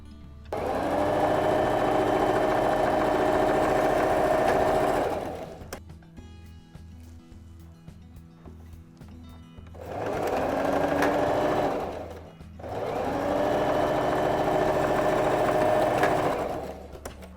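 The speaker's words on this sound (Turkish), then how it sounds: "Düzü düzüne bakacak şekilde önce omuzları dikiyorum." A sewing machine stitches the shoulder seams of a lined men's coat. It runs in three loud, close bursts of rapid steady whirring, separated by quieter pauses of handling the fabric, and no one speaks.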